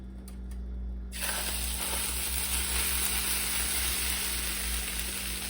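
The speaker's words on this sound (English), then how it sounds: "Let's put the chili in there." Chili hits a hot pan and bursts into a loud, steady sizzle that carries on without a break after a brief quieter moment, with faint stirring and scraping under the frying hiss and no talking.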